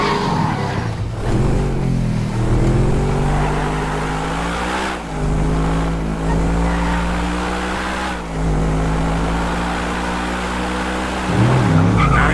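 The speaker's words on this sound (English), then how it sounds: "listen to that noise. It's like Victorian Manchester is trying to escape from the exhaust." A race car in the GTA 5 video game, on a Top Gear track map mod, drones loudly with a continuous engine and exhaust note, rising and shifting through gears with brief dips and tire squeal near the end.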